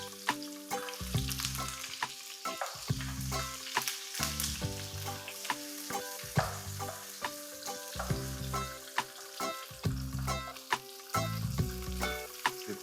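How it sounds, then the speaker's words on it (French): Onions caramelize in oil in a very hot pan, crackling and sizzling up close, with repeated rhythmic stirring strokes and sharp spatters over the continuous hiss and no talk. "on va caraméliser nos oignons"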